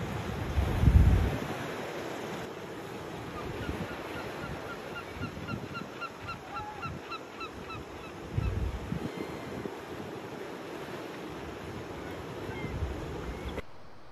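Wild ducks call around a natural seaside rock pool near Wellington, New Zealand, giving a series of faint honking notes over steady surf and wind, with a couple of louder low thumps.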